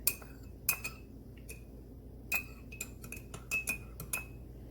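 A spoon stirs ginger and lemon tea in a cup, giving light metallic clinks against the ceramic. The taps come in small irregular clusters, fairly close and quiet, with no talking.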